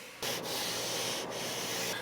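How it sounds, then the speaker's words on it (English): Steady, continuous hand sanding of wood with brief rhythmic breaks as the strokes change, close and fairly loud, with no voices. "Sanding, like many things in woodworking, teaches you patience."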